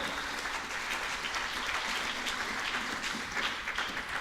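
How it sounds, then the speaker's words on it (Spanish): A church congregation claps steadily and evenly, a moderate, unbroken wash of applause with no voices standing out. "Dele palmas al Señor."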